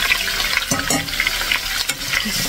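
Potatoes and Korean hanwoo beef fry with garlic in oil, a close, steady sizzle broken by repeated scraping and stirring strokes and soft knocks from the pan.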